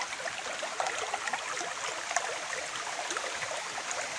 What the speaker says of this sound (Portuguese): A força da água aí, ó.